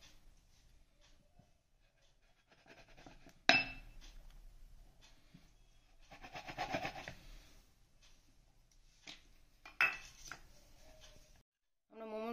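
A bowl is pressed down onto a sheet of rolled momo dough to cut rounds for green paneer gobi momos, giving two sharp clinks several seconds apart over soft handling noises in a quiet kitchen.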